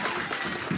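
Audience at a 2017 comic con cosplay contest clapping for a contestant, a brief dense burst of crowd applause with a voice briefly heard over it.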